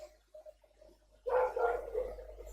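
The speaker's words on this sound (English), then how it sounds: "Wow, listen to the dogs." Dogs barking: faint, scattered yips at first, then a loud, dense burst of barking from several dogs that carries on to the end.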